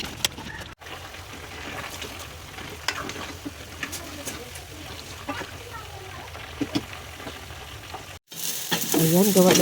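Lumpia frying in a pan at home: a steady low sizzle with crackles and pops throughout, partly under talk, ending in a louder bubbling hiss.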